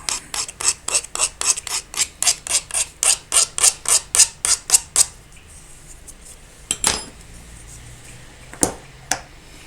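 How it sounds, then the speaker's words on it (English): A 3D printed part being rubbed to strip off paint gives a fast, even series of about twenty rasping scrapes, then stops and is followed by a few scattered louder scuffs and clicks. Close and clear, with no voices. "I rubbed a little bit around, so let's just get some of those paint off."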